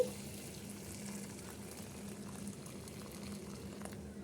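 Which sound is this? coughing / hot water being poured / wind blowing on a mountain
hot water being poured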